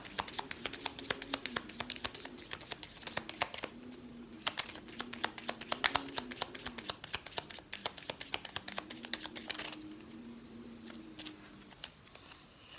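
Tarot cards are shuffled and handled at close range, giving a run of quick, dry slaps and riffling taps. They come in busy bursts with short pauses, set against a faint low hum.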